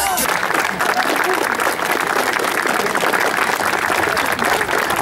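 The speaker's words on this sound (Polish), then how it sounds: "Wielkie brawa, wielkie brawa, Mieszko!" Audience at a Koszalin street basketball trick show applauding loudly and continuously, with a dense, steady wash of clapping and crowd noise throughout.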